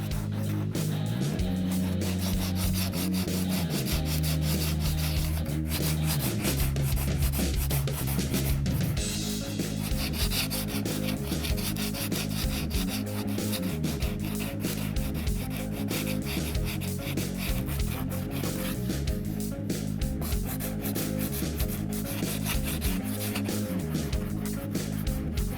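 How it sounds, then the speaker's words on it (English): Medium sandpaper worked by hand over hardened plastic bumper filler on a car bumper repair, a continuous scratchy rubbing rasp of steady strokes, close and even throughout. "use medium sandpaper and carefully remove the excess filler, shaping the repair to the contour of the bumper"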